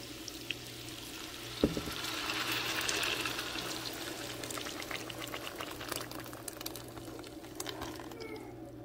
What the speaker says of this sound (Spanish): Bueno, vamos a agregarle la salsa.